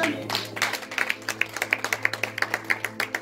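A church congregation claps together in a sermon hall, starting as scattered applause and settling into a steady rhythmic beat of sharp hand claps over a low hum.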